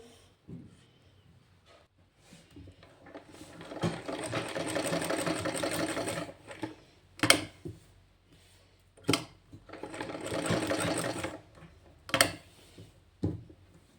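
A sewing machine stitches a V-shaped cut-work neckline, running in two sustained whirring bursts separated by sharp clicks and handling knocks, close and moderately loud with no voices.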